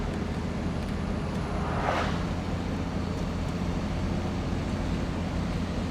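A 1967 Mustang six-cylinder engine fitted with Holley Sniper EFI, running on a dyno: a smooth, even, continuous low engine hum with a dense, steady rumble, loud and unbroken for the whole stretch.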